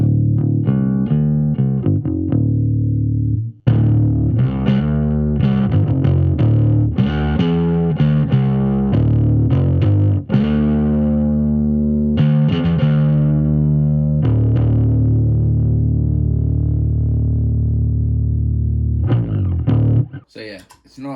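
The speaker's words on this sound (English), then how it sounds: "Just the MBD2 on its own, so a clean sound." Bass guitar played through an MBD2 pedal on its own with a clean blend, steady sustained low notes and chords ringing loud and continuous for about twenty seconds with brief gaps.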